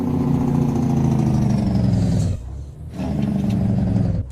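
A heavy truck's Jake brake in American Truck Simulator on an Oregon route: a loud, deep, rumbling engine roar that drops out briefly in the middle, then resumes just as strongly to the end.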